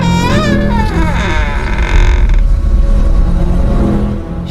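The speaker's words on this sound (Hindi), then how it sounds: "अचानक से घर का दरवाजा खुला।" A house door creaks open slowly in an animated story, a long, loud, wavering wooden groan with rising and falling pitch that stretches over several seconds and ends in a low rumbling drag.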